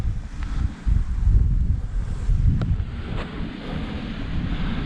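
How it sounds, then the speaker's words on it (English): Strong wind gusting across the microphone on an exposed Peak District hillside on the hike up toward Edale, a loud continuous low rumble with surging buffets and no voices. "it's getting windier the higher up we get"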